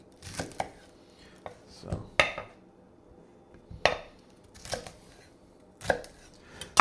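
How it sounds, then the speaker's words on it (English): A knife cuts the core out of a red cabbage on a board. It makes a handful of crisp, separate chopping thuds spaced irregularly, close and fairly quiet. "So as you can see, you have the little core right here, we're just going to cut out."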